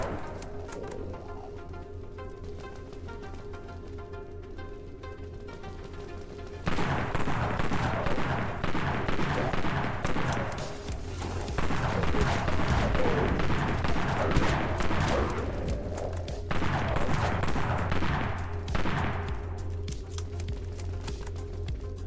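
Rapid gunfire from a weapon in the Dead Frontier video game, a dense continuous stream of shots that starts partway through and carries on at a fast fire rate, loud and close with no talking.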